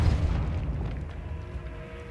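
A Depulso force spell in Hogwarts Legacy lands as a deep, rumbling boom that starts loud and fades slowly over about two seconds, alone without voices.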